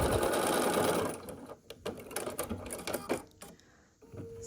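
Sewing machine stitching pieced half square triangles for a quilt block, a fast continuous whir at first, then short stop-start bursts of stitching and faint handling noises, close and fairly quiet.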